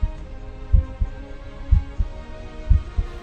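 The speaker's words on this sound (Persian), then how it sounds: "ضربان قلب،" Slow, regular heartbeat, each beat a deep double thump repeating about once a second over a faint low hum, close and clear with no voices.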